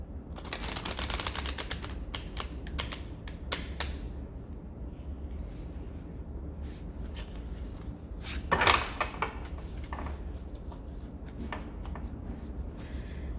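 Papery riffling and soft clicking of cards being shuffled, a dense burst at the start and scattered snaps later, with a sharper flurry near the end.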